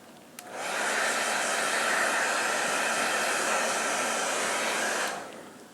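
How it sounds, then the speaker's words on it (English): A handheld blow dryer runs steadily for about five seconds, drying bonding glue on a hair weave weft during a quick weave install. The whoosh is close and strong, switches on and off cleanly, and there is no talking. "Use your blow dryer, dry the glue."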